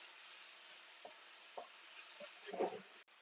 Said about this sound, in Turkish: Önce şöyle bir fokur fokur bütün sıcağını alıp kaynatacağım ve altını kısacağım.